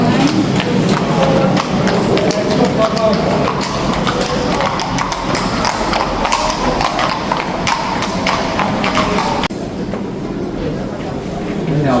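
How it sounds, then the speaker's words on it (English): Horses' hooves clip-clopping on pavement at the Hofburg Palace in Vienna, a steady rhythmic clatter close by with wheels rolling over stone and city bustle around it. "Horses in the Hofburg"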